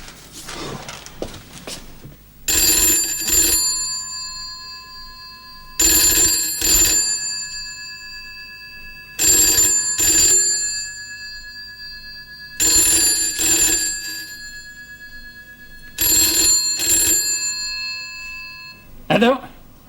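An old landline telephone rings unanswered, five long double-burst rings with pauses between, loud and close, alone with no talk over it.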